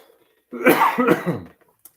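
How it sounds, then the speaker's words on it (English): A short burst of a few close, harsh coughs, like clearing a throat. "I got a little cough"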